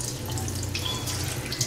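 Tap water runs steadily into a sink to rinse dried fish, yellow yam and yellow banana, a continuous close splashing stream with no talk.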